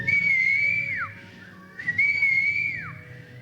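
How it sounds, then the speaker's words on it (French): Two bright sustained whistled phrases, each ending in a downward glide, over a low background rumble; clear and fairly close. "And I started whistling."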